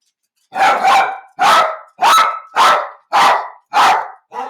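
A dog barks six times in a steady rhythm, loud and close, each bark separated by a short pause, with a seventh starting at the end.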